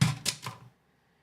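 An old-fashioned manual typewriter clacks out three quick, close keystrokes, then falls silent.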